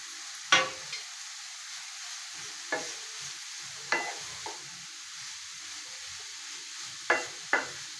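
Grated carrots for carrot halwa are stirred in a pan, giving sparse scraping strokes of a spoon against metal over a faint, quiet sizzle, close by with long pauses between strokes.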